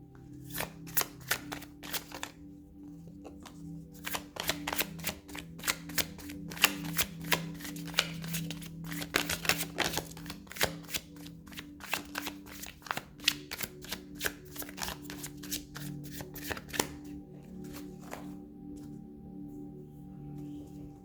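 A deck of oracle cards is shuffled over and over, a dense run of quick papery riffles and flicks close up, with a faint steady hum underneath and no talking.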